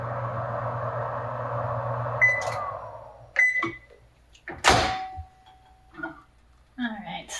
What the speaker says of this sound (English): So just 10 or 15 seconds in the microwave.